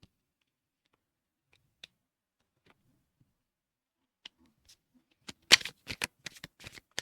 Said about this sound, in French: j'ai pas mal de cartes qui sautent